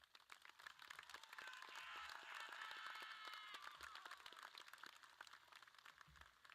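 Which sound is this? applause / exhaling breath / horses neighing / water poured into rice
applause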